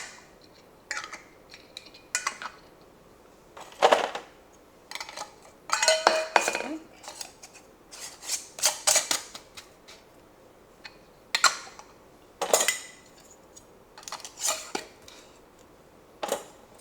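Metal canning lids and screw bands being set onto glass canning jars, giving a string of scattered light clinks and taps at close range, with brief pauses between them.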